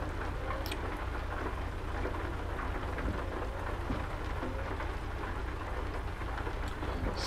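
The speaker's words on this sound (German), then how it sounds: "Diese schönen Regengeräusche." Steady rain with low rumbling thunder in the truck-driving game American Truck Simulator, a constant dense patter without talk.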